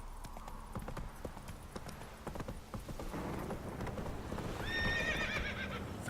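Roach, a horse in The Witcher 3, gallops with a steady clip-clop of hooves throughout, then lets out a loud whinnying neigh near the end over a low game ambience.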